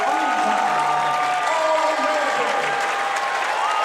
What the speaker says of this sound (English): now this crowd is going to erupt for Logan Massa